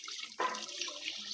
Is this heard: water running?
yes